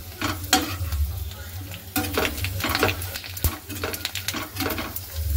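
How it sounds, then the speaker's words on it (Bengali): Homemade papad, three colours at once, frying in hot oil: a steady close sizzle with bursts of crackling and repeated scraping stirs of a utensil against the pan. "তেলটা গরম হয়ে গেছে, আর পাপড়গুলো আমি দিয়ে দিচ্ছি"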